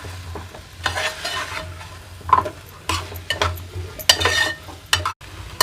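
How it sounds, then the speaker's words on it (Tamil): Drumstick pieces sautéing in a pan for drumstick and garlic kuzhambu, a steady low sizzle broken by scraping stirs and clinks of a metal spoon against the pan. "முருங்கைக்காய் நல்லா வதங்கிடுச்சு"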